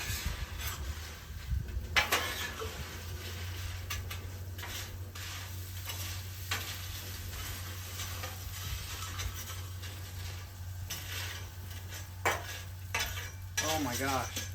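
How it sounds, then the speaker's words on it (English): Chex Mix coated in butter is stirred and tossed on a Blackstone griddle, with a faint steady sizzle under repeated scraping and clinking of a metal utensil against the flat top. "All right, toss it around, spread it back out."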